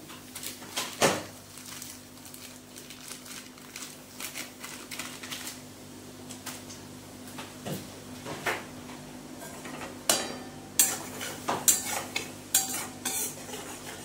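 Gram flour roasting in a pan as it is stirred, with irregular scraping and clinks of a utensil against metal over a low sizzle, fairly quiet and close.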